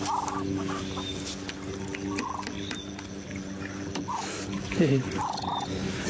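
Hens cluck softly in short bursts amid a busy farmyard, with steady low background hum and occasional sharper calls.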